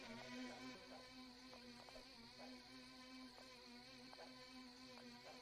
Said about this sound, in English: there's the bee. I knew there was a bee somewhere.